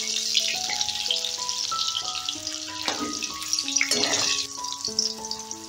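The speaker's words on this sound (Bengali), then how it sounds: "আলুটা লাল লাল করে ভেজে নেব" Salted potato pieces fry in hot oil for a Bengali chicken dish, a steady crackling sizzle running under a melodic tune of sustained tones.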